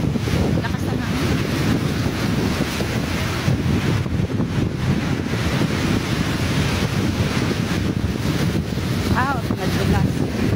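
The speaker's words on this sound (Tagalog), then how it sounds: "grabing lakas ng hangin" Strong wind gusting across Leganes plaza in Iloilo during rain, a steady loud roar of buffeting air on the microphone throughout, with a faint voice in the background.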